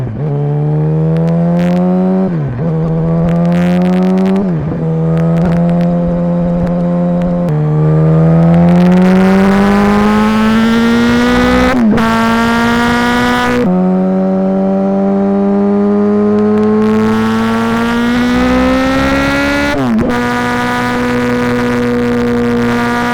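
Yamaha R1 sport motorcycle heard from on board while riding, its engine loud and close, climbing through the revs in long pulls with sharp drops at each gear change, no talking.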